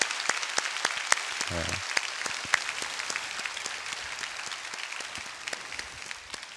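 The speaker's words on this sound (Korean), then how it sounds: "우리 서로를 향하여서 큰 박수로 격려했으면 좋겠습니다." Congregation at a Baptist church joint prayer gathering breaks into sustained applause, a dense wash of many hands clapping steadily throughout, with a brief spoken word near the start.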